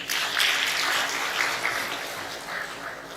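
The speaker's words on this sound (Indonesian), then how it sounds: "Tepuk tangan dulu ini." Audience applause during a ministerial address in Indonesia on a village development programme, a steady wash of many hands clapping that holds fairly even for a few seconds and then eases slightly.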